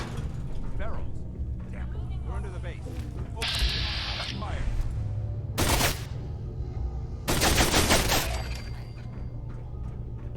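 Gunfire in modded Fallout 4, scattered sharp shots and bursts with mechanical clatter over a steady game background, interspersed with loud impacts.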